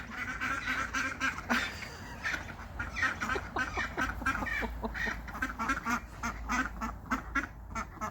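A duck quacks repeatedly in short, bright bursts, close and fairly clear, with an uneven rhythm of happy-sounding calls over light background noise.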